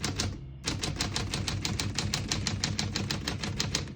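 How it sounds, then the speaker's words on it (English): Rapid, steady clacking of a 1948 Smith-Corona Clipper manual typewriter, keystrokes striking in a quick even rhythm after a brief pause at the start, close and clear. "all the keys type nice and none of them skip or stick"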